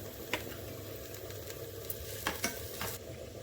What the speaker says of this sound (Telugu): ఇప్పుడు పచ్చిమిర్చి కూడా వేగిన తర్వాత కరివేపాకు వేసుకుందాం.